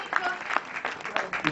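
An audience at a music festival award ceremony claps for a performer, a moderate, uneven patter of hands with a few sharper bursts standing out, heard briefly at a medium distance.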